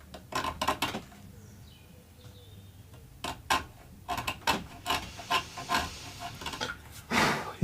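Wood is filed by hand during a bass guitar build, with short scraping rasp strokes in irregular bursts, separated by quieter pauses, close and fairly crisp.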